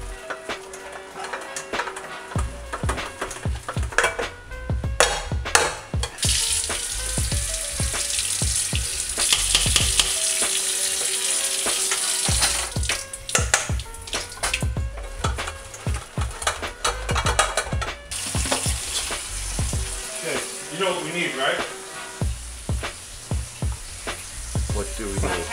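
Cooked sweet potatoes are pressed through a hand ricer, giving repeated squeezing and mechanical clicking bursts with a steady background hiss. The sounds are fairly loud and near, with no voices.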